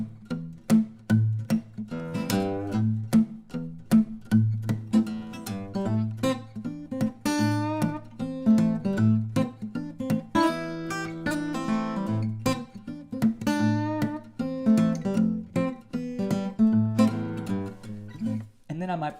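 An acoustic guitar plays a fingerstyle piece loudly and briskly: a steady bass line runs under quick, ringing treble melody notes, close-up, with no voices.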